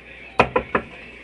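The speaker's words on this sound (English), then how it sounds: "I have to knock on the door first" Three quick, firm knocks on a door, close by and evenly spaced, with near silence before and after.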